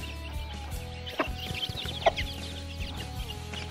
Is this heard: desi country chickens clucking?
yes